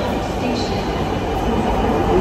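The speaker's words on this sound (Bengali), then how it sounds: "ওই দেখো ট্রেন কেমন" A metro train passing, a dense steady rumble with a faint whine that builds slightly toward the end, close and fairly loud.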